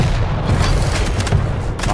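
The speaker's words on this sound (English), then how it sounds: "Everyone's using rockets." Loud, booming rocket launcher blasts and explosions fire in the arena shooter Quake Champions, several heavy bursts overlapping in quick succession, close and dense.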